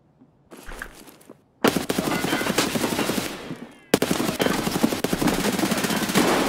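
Automatic gunfire from a video game shooter rattles in loud, rapid bursts, broken by a brief pause and then resuming close and sustained, with no speech over it.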